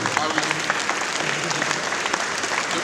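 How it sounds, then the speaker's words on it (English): An orientation audience gives a round of applause for an executive, dense, loud clapping with scattered cheers and voices mixed in, continuous throughout. "A round of applause for our"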